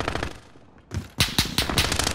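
Gunfire in Call of Duty Modern Warfare on Rebirth Island: rapid bursts of automatic shots, close and loud, after a brief quieter lull, with no talking.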